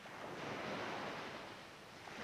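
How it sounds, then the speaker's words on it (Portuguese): Ocean waves break on a beach in a steady, loud wash of surf with wind noise, continuous and close, with no voices. "As ondas quebrando na praia."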